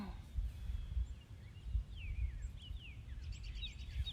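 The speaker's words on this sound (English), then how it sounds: "Lots of birds chirping, some cars here and there." Birds chirp in scattered, thin calls against a steady low outdoor rumble, with a breeze and occasional passing cars underneath; the calls are faint and intermittent throughout.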